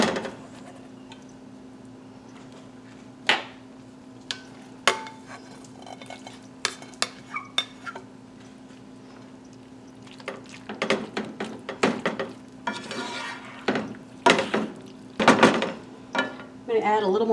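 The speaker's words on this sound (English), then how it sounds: "Now I'm going to go ahead and start adding the pasta to here." Cooked pasta being added to a pan and stirred, with irregular spoon scrapes and clanks that grow busier and louder toward the end, over a faint steady hum.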